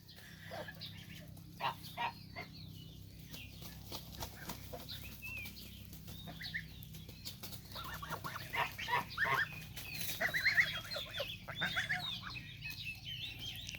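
Soft peeping and chirping calls of goslings in a coop, scattered through steady low background noise, with occasional louder bursts of calling near the end.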